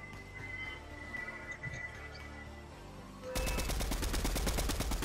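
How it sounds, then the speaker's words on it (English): Heavy automatic gunfire in the Fortnite Chapter 3 battle royale, a dense rapid burst that starts abruptly partway through and stays loud and continuous after quieter game ambience. "what are you shooting at?"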